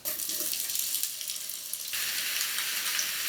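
Potatoes frying in olive oil in a pan, a steady broad hiss that shifts slightly brighter midway and carries on alone, close and fairly loud throughout.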